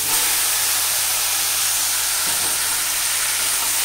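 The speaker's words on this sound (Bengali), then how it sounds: "এখন সিদ্ধ করা কচু শাকগুলো দিয়ে দেবো।" Boiled taro leaves go into a hot pan of fried onions and chillies and sizzle with a steady, loud, broadband hiss that runs without a break.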